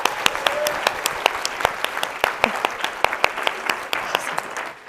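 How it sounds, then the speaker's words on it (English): A summit audience applauds, with sparse, distinct individual claps ringing out close over a softer bed of clapping, fairly loud and irregular. "you should give yourselves a round of applause for doing it"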